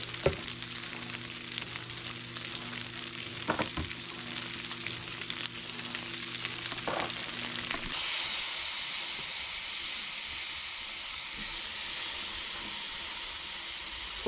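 Steady sizzling hiss of meat on a hot grill, growing louder and brighter partway through, continuous with a few soft clinks.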